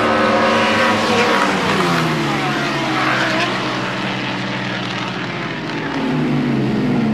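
Superbike motorcycles race past at Barber track, their high engines loud and close, whining in rising and falling pitch as they pass through, with a continuous roar throughout.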